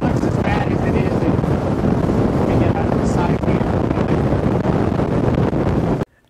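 Strong wind roaring over a 22-foot Falcon catamaran at sea among whitecaps, a constant loud buffeting rush across the microphone that cuts off abruptly at the end.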